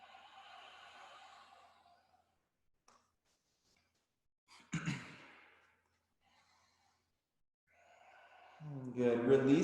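Audible breathing in a vinyasa yoga class during a forward fold with interlaced fingers, several soft drawn-out breaths separated by quiet pauses, close to the listener, with a fuller exhale rising at the end.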